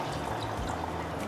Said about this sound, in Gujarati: હવે આપણે આમાં પાણી નાખશું.